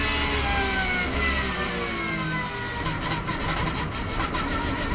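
A race car engine lapping the Nürburgring Carousel during the 24-hour race, a loud continuous drone that holds steady with shifting pitch as the car works through the banked turn, with no talk over it.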